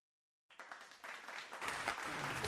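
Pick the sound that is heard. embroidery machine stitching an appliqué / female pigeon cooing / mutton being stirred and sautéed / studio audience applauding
studio audience applauding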